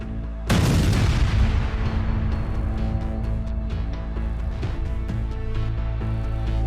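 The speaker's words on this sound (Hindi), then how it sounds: "पाकिस्तानी फौज की पोस्ट को 6 नवंबर की अलसुबह तालिबान ने किस तरह चिंदियों में उड़ा दिया" A Taliban attack on a Pakistani army border post at dawn in Orakzai, Khyber Pakhtunkhwa, sets off a sudden loud explosion. Heavy rumbling and crackling blasts continue without a break after it.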